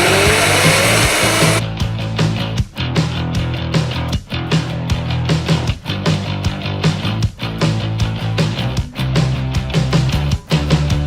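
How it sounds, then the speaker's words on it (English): A kitchen blender whirs hard, blending cucumber, mint and other ingredients into a vegan tzatziki: a loud, sustained motor roar with rhythmic dips and surges as the contents churn, alone without talk. "I just want to throw it straight into the blender."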